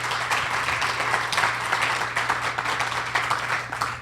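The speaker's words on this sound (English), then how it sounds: "Please give him another round of applause" A luncheon audience at a civic club gives a round of applause for a county sheriff, dense continuous clapping that stays loud and even throughout.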